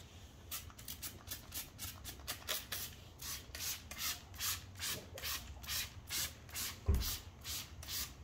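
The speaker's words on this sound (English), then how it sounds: "We're going to spray it on, wipe it in." Rhythmic rubbing swipes as ceramic coating spray is wiped by hand onto a car's paint, a steady series of soft, even strokes close up and fairly faint, with one brief thump near the end.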